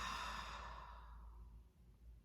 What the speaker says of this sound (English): And a full breath out.